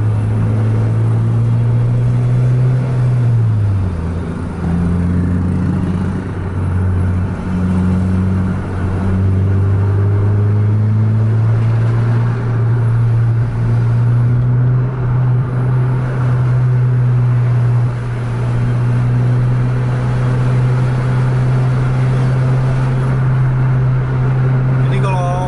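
A heavy Scania or Mercedes-Benz bus engine drones steadily along a highway, a loud, continuous low hum that dips briefly early on before settling into a constant rumble, with someone talking over it throughout.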